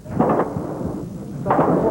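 Repeated gunfire in Kosovo booms as two dull, rumbling bursts a little over a second apart, heavy and distant-sounding over a constant outdoor background.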